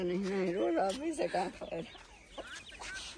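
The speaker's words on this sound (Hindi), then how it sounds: "मुर्गी दोस्तों बाहर निकल आई है अपने बच्चों को लेके" A hen clucks repeatedly up close, with soft chick peeps and other chatter mixed in around it.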